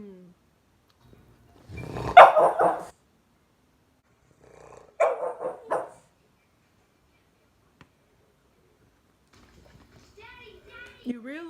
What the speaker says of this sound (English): You realize I'm gonna have to edit out all of your barking.